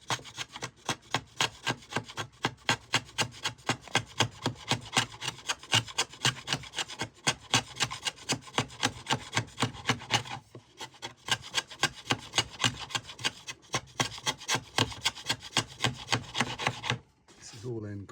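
Rhythmic rasping strokes of a tool beveling dense maple end grain on the inner edge of a seven-string lyre, dozens of steady back-and-forth scrapes close up, with a brief pause midway.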